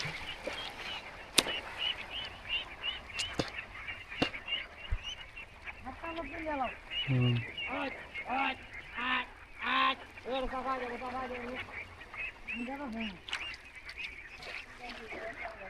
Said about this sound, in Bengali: অনেকগুলো হাঁস কিন্তু দেখতে পাচ্ছেন দর্শক অনেক হাঁস হাঁসের হাঁস শুধু হাঁস আর হাঁস